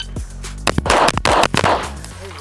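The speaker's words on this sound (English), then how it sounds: "I'm shooting it like a ported gun." Gunshots from a non-ported TTI Combat Master pistol ring out in a rapid string of sharp, loud reports, several shots close together with brief gaps between bursts.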